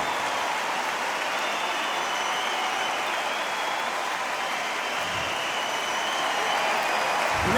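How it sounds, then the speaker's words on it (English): Crowd applause in the Undisputed boxing video game, a steady, dense roar of clapping that holds for several seconds without a break. "Give me the applause."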